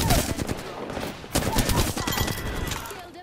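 Enemy gunfire in a shooter video game, a steady stream of rapid shots with a louder burst midway, continuing throughout under a faint voice.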